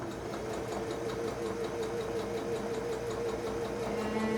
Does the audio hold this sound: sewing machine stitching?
yes